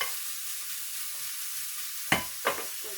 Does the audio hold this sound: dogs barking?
no